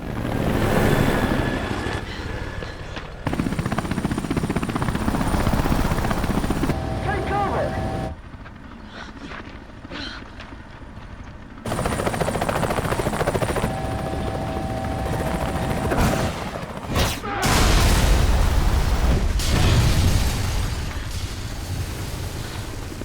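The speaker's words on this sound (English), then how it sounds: "Chris finally gets a big kill streak and calls in his Apache helicopter." Apache helicopter in the Resident Evil 5 video game, a steady loud rotor and engine roar that drops away briefly and then returns, overlaid with game effects.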